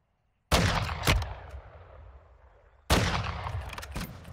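Two loud gunshot bursts in the video game Warzone Mobile, each a sharp crack followed by a long, fading echoing tail, close and alone.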